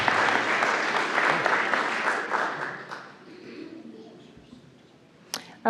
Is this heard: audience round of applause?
yes